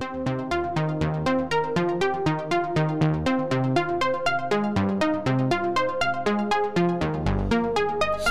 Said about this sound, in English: I've got 2 VCOs playing at the same octave but slightly detuned, and I've got a third VCO now playing an octave higher at straight tuning